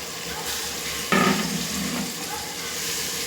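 Marinated chicken mixed into a pot of softened tomatoes and oil for gongura chicken biryani, a steady close sizzle with a brief burst of louder scraping and stirring partway through.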